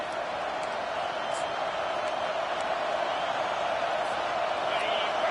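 Home crowd at an Ohio State football game roaring steadily as the defense tries to get off the field on third down, a dense, sustained wall of cheering with no break across the whole stretch.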